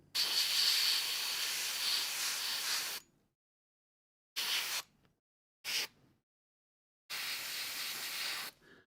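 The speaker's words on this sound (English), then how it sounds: "so you can airbrush things in between armor panels" Airbrush spraying paint on a large miniature model, a steady hiss for about three seconds, then short bursts and a final longer spray, close and fairly loud with silent pauses between.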